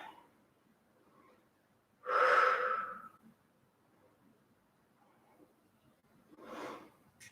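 Deep breathing during a soft flow yoga session, one long, full exhale near the middle and a softer second breath toward the end, close and alone in a quiet room.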